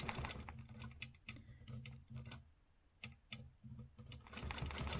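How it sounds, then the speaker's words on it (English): Sewing machine stitching a stencil, heard up close as bursts of rapid mechanical ticking and clattering, broken by short pauses, with no talk. "Then I'm going to stitch over to here"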